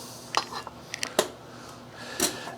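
Kitchen knife cutting a bad spot off a fresh tomato, a few sharp clicks and light taps of the blade against a board or bowl, close and brief, scattered over a quiet background.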